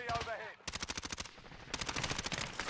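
Automatic gunfire in a battle royale video game fight, fast rattling bursts with a short gap between them, a voice heard briefly at the start.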